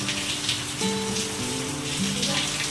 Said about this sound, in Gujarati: વરસાદ થઈ ગયો છે ફૂલ ચાલુ